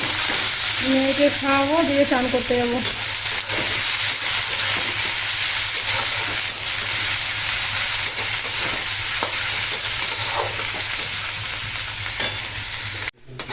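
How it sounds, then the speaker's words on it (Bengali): Chickpeas and onion fry in a pan with a steady, close sizzling hiss that runs the whole length, while someone speaks briefly over it near the start. "ছোলার পেঁয়াজটা আমার ভাজা হয়ে গেছে"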